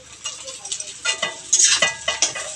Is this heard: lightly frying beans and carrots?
yes